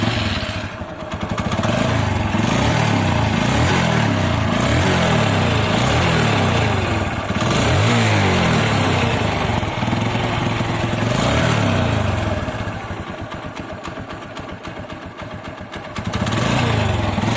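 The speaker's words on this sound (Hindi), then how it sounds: "अगर मैं इस बाइक को स्टार्ट भी करूँ ना तो" A second-hand motorcycle engine running steadily, a throaty, rhythmic idle close to the microphone that surges and dips slightly in revs, heard alone without talk.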